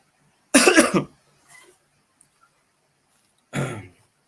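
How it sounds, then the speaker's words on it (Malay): Two sharp coughs close to the microphone, separated by about three seconds of quiet, with a faint softer sound in between. "Batuk."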